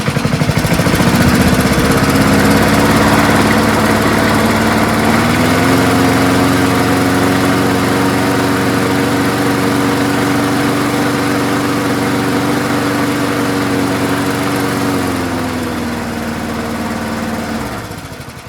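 A vintage 1974 Ransomes Sensation Bob-Cat M21 push lawnmower with a Wisconsin Marine 4HP engine runs loud and close, a steady throbbing drone that shifts pitch slightly midway and eases a little toward the end.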